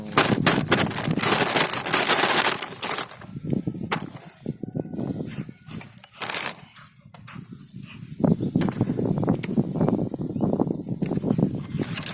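Machine gun fire rattles in repeated dense bursts, loud and sharp, with quieter gaps between volleys and broadband crackle throughout.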